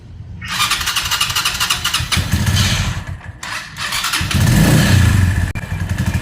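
Keeway Cafe Racer 152 motorcycle engine cranking and catching, then settling into a loud, close, rough idle with small throttle surges as it warms up.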